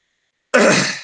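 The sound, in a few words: throat clearing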